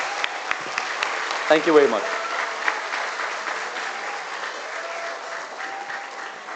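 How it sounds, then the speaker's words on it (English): Audience applause at a school investiture ceremony, cheering for the chief guest: sustained clapping from a large crowd throughout, with a brief thank-you spoken over it partway through. "can we have a huge round of applause for our chief guest and everybody who took time to come out"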